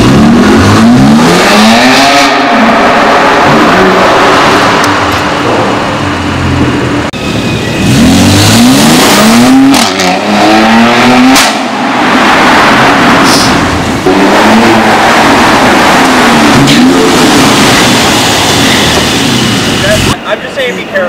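A 2018 Mercedes GLC 43 AMG with an AMG exhaust system revving hard, with repeated surges, crackles and pops, heard loud and close from inside the car through an open window while a person talks over it.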